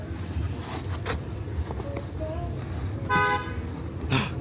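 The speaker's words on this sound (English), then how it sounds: "The first honk I've heard in Hawaii." A short car horn toot sounds briefly amid street ambience on Maui, Hawaii, followed by a second quick honk moments later.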